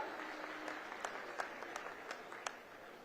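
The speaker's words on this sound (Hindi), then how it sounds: "सब मंचस्थ अतिथियों के लिए जोरदार ताली बजाकर स्वागत कर दो" Crowd applause welcoming guests on stage at a farmers' assistance distribution ceremony and large farmers' conference, a steady wash of many hands clapping with a few sharper claps standing out, moderately distant and continuous throughout.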